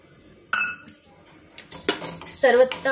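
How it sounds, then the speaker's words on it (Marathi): Native sesame seeds being dry roasted in a pan while making fenugreek laddoos, heard as close metallic clinks and scraping of a utensil against the pan in scattered bursts, with a brief voice near the end. "हे जे तीळ घेतले आहे गावरान तीळ ते भाजून घ्यायचे।"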